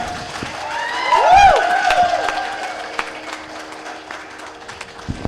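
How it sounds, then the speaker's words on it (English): Guests at a Hindu wedding ceremony clap and cheer, with a brief swell of applause and whoops that fades into scattered claps and crowd murmur. "Give them a round of applause, please."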